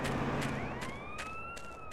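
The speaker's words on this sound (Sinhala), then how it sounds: "ඔන්න ඇම්බියුලන්ස් එක එනවා" An ambulance siren wails in the GTA video game, rising and sweeping tones over a steady rumble of background noise, moderately loud throughout.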